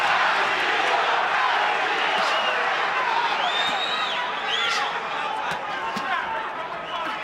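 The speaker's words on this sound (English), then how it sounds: "Crowd chanting Castillo, Castillo." Boxing arena crowd at the Corrales vs Castillo fight roaring and chanting a fighter's name, a dense, sustained wall of many voices with rhythmic swells throughout, loud and continuous.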